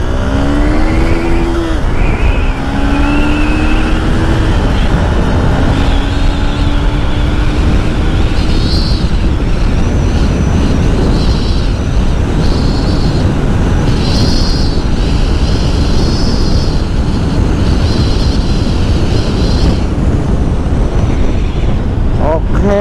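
Yamaha MX King motorcycle ridden fast on a road test with a 14-tooth gear, its engine note rising loud and continuous with wind roar, over about twenty seconds.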